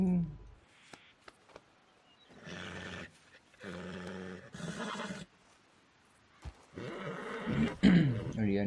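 A wild horse being tamed in Red Dead Redemption 2 gives several loud, drawn-out neighs and snorts in bursts, close up, with brief pauses between them and a voice now and then.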